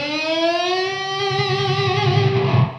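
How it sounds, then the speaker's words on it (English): Distorted electric guitar pinch harmonic squeal, a single screaming high note bent slowly downward with whammy bar vibrato, played solo and loud. "as soon as the string starts coming up, I lightly touch it to produce that harmonic"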